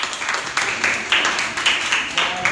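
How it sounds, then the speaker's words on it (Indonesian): A classroom of students applauds a presenting group in a short burst of irregular hand claps with uneven peaks, heard close by with some voices mixed in. "Oke, tepuk tangan untuk kelompok visual."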